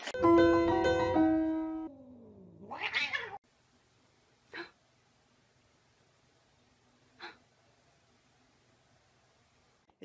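A cat lets out a long, loud, rising caterwauling meow up close, followed by two short faint sounds and then quiet.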